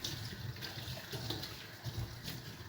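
Tap water runs steadily while vegetables are rinsed for a peanut and free-range chicken dish, a close, continuous splashing rush with small fluctuations and no talking.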